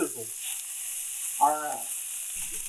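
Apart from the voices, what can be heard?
antelope steak sizzling in frying oil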